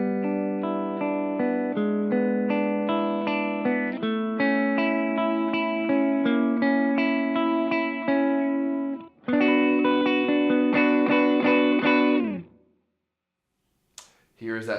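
Electric guitar playing a picked pattern through a Fender amp on a clean middle setting, ringing steadily for about twelve seconds before a brief pause and a few faint final notes.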